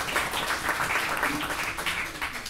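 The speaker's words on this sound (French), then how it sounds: "Monsieur Hervé Dejean de la Batique, vous pouvez applaudir" An audience applauding at a formal gathering, a steady wash of many hands clapping at moderate distance, fairly soft and continuous.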